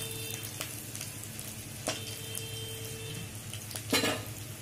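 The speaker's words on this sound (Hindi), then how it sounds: "मैं इधर ये 1 चम्मच जीरा डाल रही हूँ इसमें" Cumin seeds sizzling in hot oil with garlic for aloo matar, a steady close frying hiss with a few light utensil taps and clinks against the pan, no talk.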